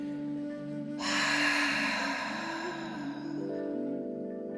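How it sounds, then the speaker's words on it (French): Slow guided exhale through the mouth in a breathing and visualization exercise, a single long soft breath rising suddenly and trailing off over a few seconds, close and clear above a steady low musical drone. "Expire par la bouche."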